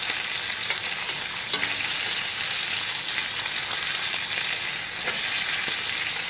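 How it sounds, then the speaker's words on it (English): Steak sears in a hot pan with thyme and rosemary, giving a steady, loud, close sizzle and crackle of frying that runs unbroken throughout with faint stirring. "It is sizzling up in here."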